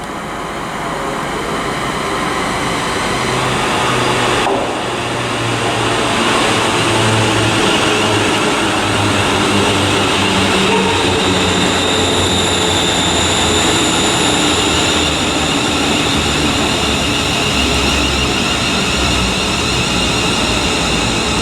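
ScotRail class 380 electric multiple unit arriving at Paisley Gilmour Street station, a steady loud rumble of wheels and motor hum with high whining tones lasting throughout, no talk.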